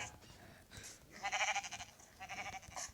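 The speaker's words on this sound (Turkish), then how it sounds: "Gel buraya koyun." Sheep bleating in a Minecraft survival game, several short nasal bleats close together around the middle and end of the clip, moderately loud over faint background sound.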